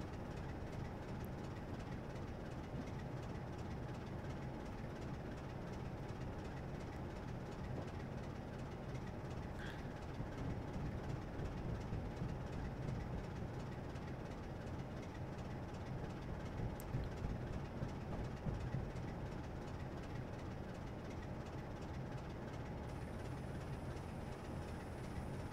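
Another train passes in the Train Simulator 2021 video game, a faint, steady low rumble with soft rail noise that holds throughout, with no talking.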